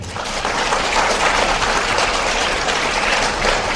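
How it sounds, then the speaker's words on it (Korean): Sustained, dense applause from an audience at a history lecture hall in Korea, loud and even throughout with no speech over it. "이무철 애국지사님, 예, 박수 한번 주십시오."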